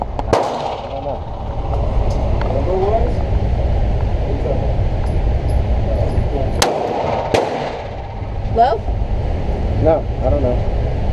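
Shots from a Smith & Wesson 9mm pistol at an outdoor range: sharp single reports spaced a few seconds apart, loud and close, amid steady background noise and people talking.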